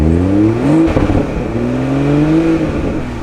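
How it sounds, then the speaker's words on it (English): A 2021 Toyota Supra engine revs hard in normal mode, close and loud: pitch climbs, drops sharply for a moment, then swells again to a sustained high drone before easing off, with no pops and no talking. "So if I go ahead and rev it in normal mode right now"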